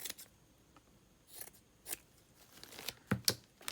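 Scissors snip through coffee-dyed cheesecloth in several short, crisp cuts spaced irregularly, close and quiet, with soft fabric rustling between snips.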